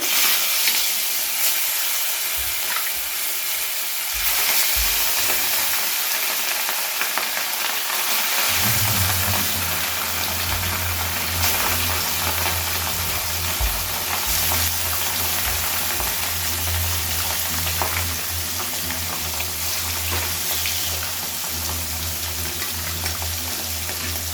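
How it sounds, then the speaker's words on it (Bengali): Katla fish pieces frying in smoking hot oil, a steady bright sizzle running throughout that swells and deepens as the fish hit the oil partway through, with no talking. "এবারে আমি এক এক করে মাছগুলোকে দিয়ে ভেজে নেব।"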